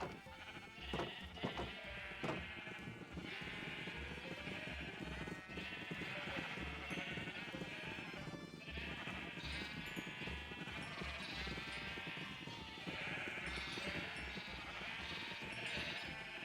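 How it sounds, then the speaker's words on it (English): Sheep in a Minecraft Skyblock game bleat repeatedly over a steady busy background, with several distinct bleats clustered near the start and continuing at intervals throughout. "I'm gonna feed the sheep first."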